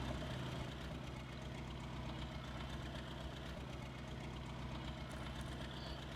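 A tractor idles in the Farming Simulator 22 farming game, a low, steady engine rumble heard faintly and continuously with no speech.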